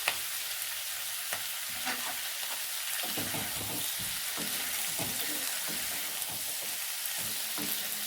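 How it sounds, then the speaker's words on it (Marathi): Capsicum and onion slices sizzle in a wok, a continuous frying hiss with faint stirring scrapes underneath. The sound is constant and close, with no voices. "कढईमध्ये चांगल्या प्रकारे मिक्स करून घ्यायचे आहे."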